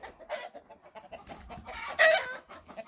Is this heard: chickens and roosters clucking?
yes